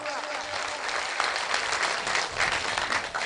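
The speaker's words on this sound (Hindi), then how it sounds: "उनके लिए जोरदार तालियां।" Loud applause from the crowd at a Bajrang Dal foundation day speech, a continuous wash of clapping that fills the whole moment, with a voice faintly audible underneath.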